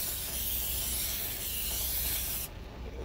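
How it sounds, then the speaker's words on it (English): Olive oil cooking spray hisses steadily into a pan for about two and a half seconds, a close, bright spray that cuts off abruptly. "It's spray grease, y'all."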